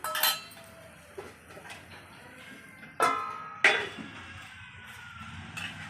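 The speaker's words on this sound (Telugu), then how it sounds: "ఇలాగా ఒక రెండు నిమిషాలు మూత పెడదాం" A metal lid set down on a cooking pot at an outdoor cooking spot, heard as a few sharp metallic clinks and clatters spread over several seconds, with quieter background in between.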